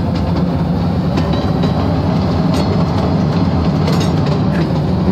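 Steady, loud rumble of trains running along a rail line in the city-building game Cities Skylines II, with a continuous rolling clatter of wagons over track and no speech, holding evenly throughout.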